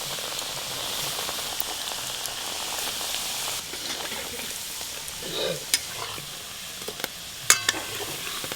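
Potato fritters frying in hot oil give off a steady, close sizzle throughout, with a few sharp clinks of a utensil stirring near the end; no one speaks.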